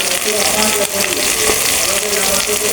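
Fried onions sizzle loudly in oil with added garlic, cumin and ginger pastes, making a dense, constant crackle close to the listener.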